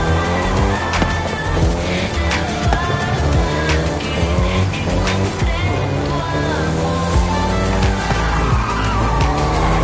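A Volkswagen Golf GTI drives hard in the video game Forza Horizon 5, its engine droning loudly and steadily with shifting pitch, tire squeal and skidding, under background music.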